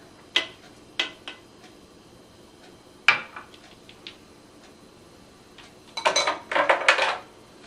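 Peaches and cinnamon being lightly tossed together in a bowl, with a few sharp clinks of a utensil against the bowl early on, then a denser burst of scraping and clattering near the end, close and fairly quiet, no talking.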